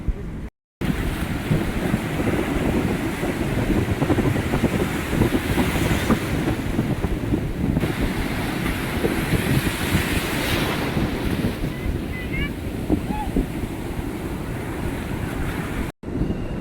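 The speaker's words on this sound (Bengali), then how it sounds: "আমি এখন আছি ব্লু ফ্ল্যাগ বিচে।" Waves rumble and wash continuously at Golden Beach, the Blue Flag beach in Puri, with strong wind buffeting the microphone throughout, loud and close.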